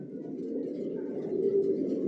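Racing pigeons in a loft giving a brief, continuous low coo, close and soft, over a quiet room.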